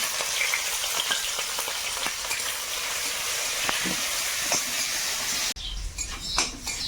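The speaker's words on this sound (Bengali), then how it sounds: "তেলের মধ্যে একটু কালো জিরে দেব কাঁচা লঙ্কা পেঁয়াজ কুচি আর থেঁটো করা রসুন" Black cumin, green chilli, chopped onion and crushed garlic frying in hot oil, a loud continuous sizzle and hiss with small crackles, briefly dropping and then resuming more unevenly near the end.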